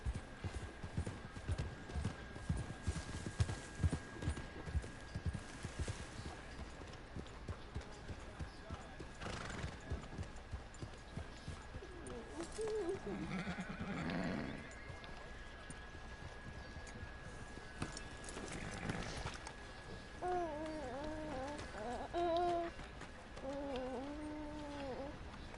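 Rhythmic clip-clop of hooves in the foreground in Red Dead Redemption 2, then a horse neighs and whinnies several times, with a rooster-like call in the background.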